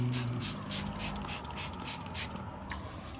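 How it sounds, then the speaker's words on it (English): Several quick hissing sprays from a spray bottle in close succession, a steady rhythmic spritzing with a faint rubbing underneath. "All I'm gonna do is spray this liberally, if it sprays."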